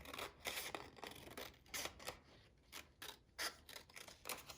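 Scissors snip through a paper sleeve pattern for a doll shirt, a quick series of crisp, close cutting strokes in an irregular rhythm with no talking.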